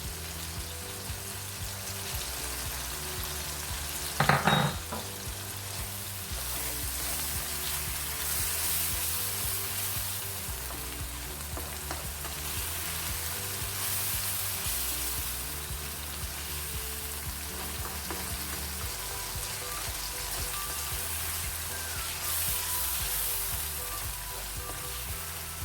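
Green chillies, cloves and cardamom fry with chicken in a pan, giving a continuous close sizzle with a brief louder spatter and occasional stirring.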